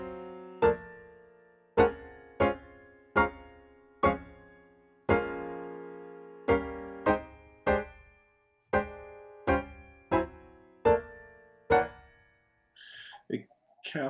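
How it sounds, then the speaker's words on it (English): VI Labs American Grand piano played with repedaling, a series of about a dozen single struck notes and chords, each ringing with a sustained tail caught and held by the pedal, close and clear, with a brief voice starting at the end. "it's catching the tail of the notes. So that's the effect of it, and it's called repedaling"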